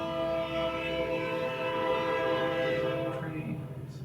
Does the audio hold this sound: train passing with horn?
yes